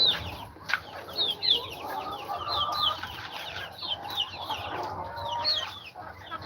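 Hens cluck and chatter nonstop inside a chicken house, many overlapping calls at close range with soft rustling beneath.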